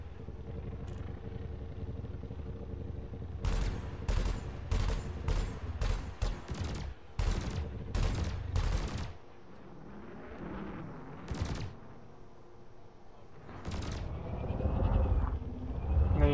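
Ship weapons fire in rapid volleys during combat in the space game Elite Dangerous, loud repeated blasts in a dense cluster over a low engine hum, followed by a few isolated shots.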